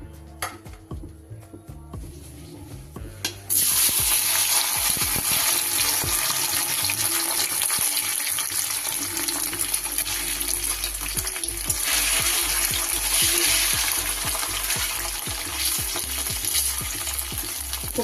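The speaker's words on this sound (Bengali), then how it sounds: "পনিরগুলো কিন্তু আমার হালকা লাল করে ভাজা হয়ে গেছে।" Small cubes of paneer fry in hot oil in a pan for matar paneer ghugni. A quieter stretch of kitchen clatter gives way to a loud, steady, close sizzle that continues to the end.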